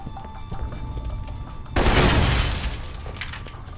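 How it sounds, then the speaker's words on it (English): A sudden loud explosion bursts out partway through, following quieter game ambience, with a roaring, crumbling tail that slowly fades, as a facility is being destroyed in the video game Alpha Protocol. "There's been some explosions."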